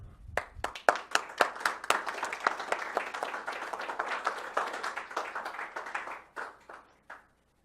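Audience applause welcoming a guest speaker at a grassroots mobilization event: dense, steady clapping from a room of people, starting with a few sharp claps, swelling to a sustained roar, then tapering off.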